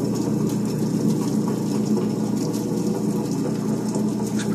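A Hobart 6430 commercial potato peeler running, its motor giving a steady, loud, continuous hum and churn with no pauses.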